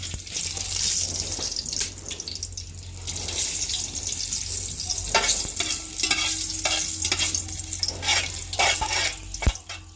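Whole pulao spices frying in a pan, heard as continuous stirring and scraping over a crackling sizzle with a low steady hum and a sharp clack near the end, with no talk.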